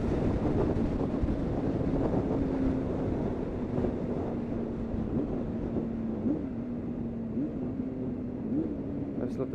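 Honda Hornet 600 motorcycle engine while riding, a steady droning hum with shifting pitch under heavy wind rush, continuous and close throughout.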